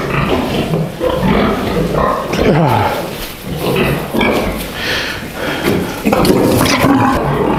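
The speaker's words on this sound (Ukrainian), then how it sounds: "Дві свинки буде і два кабанчика." Pigs and piglets grunt and snort loudly and continuously nearby, with people talking over the animal noise.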